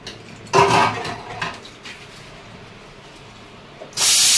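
Dishes are washed at home: near, sharp clinks and clatters of pots and utensils come in bursts, with quieter scraping and a gush of running water in between, and a loud hissing spray of tap water at the end.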